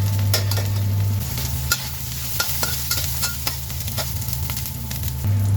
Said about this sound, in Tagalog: ginigisa ko siya sa ginger